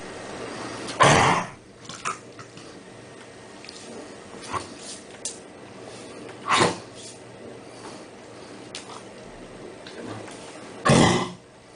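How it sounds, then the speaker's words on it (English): Labrador with chronic bronchitis giving a wet, productive cough in several separate bursts, with three strong coughs spaced a few seconds apart and fainter ones between them, close and clear against a quiet background. "You may have heard a typical sort of wet sound because it's a productive cough due to the mucus"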